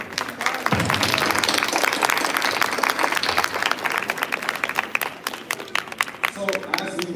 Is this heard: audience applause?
yes